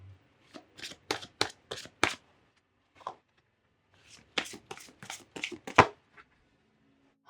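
Oracle cards are shuffled for a tarot reading in crisp bursts of riffling and slapping, close and fairly loud, in two clusters separated by a short pause, with no voice over them.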